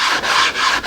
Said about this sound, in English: My preference is a little sanding block,